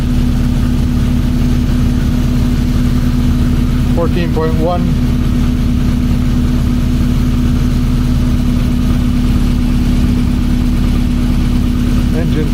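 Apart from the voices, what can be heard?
1982 VW Westfalia engine idling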